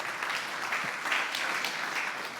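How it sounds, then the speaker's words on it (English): Audience applause at a politics conference talk, a steady dense clapping from a crowd filling the whole stretch at even loudness. "give a round of applause"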